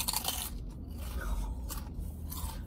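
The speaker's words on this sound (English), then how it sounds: "It's a nice crunch." Crisp crunching of a bacon-flavoured snack from the USA during a snack taste test, several close, bright bites and chews with quieter pauses between them.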